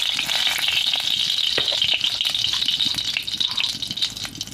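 Dried red chilli and panch phoron fry in mustard oil in a kadai, a steady, close, dense sizzle with light rattling throughout and no voices.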